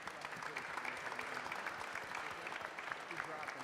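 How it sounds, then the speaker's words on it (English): Faint but continuous applause from an audience at an arts tribute event, an even patter of many hands sustained throughout with nothing standing out above it. "I think they're deserving of a huge round of applause"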